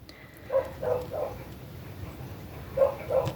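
Dogs barking indoors somewhat away from the microphone, a quick run of three short barks followed after a pause by two more, moderately loud over a quiet room.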